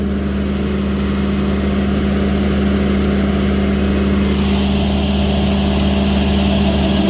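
A 2020 Rayco RG74T remote-controlled track stump grinder with a Cummins engine, its cutting wheel running: a loud, steady mechanical drone with a constant low hum, close by and alone.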